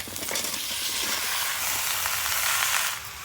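Crab pieces with Malabar spinach, potato and pumpkin fry in hot oil, giving a loud, steady, dense sizzle that holds without a break for several seconds and then eases slightly at the end.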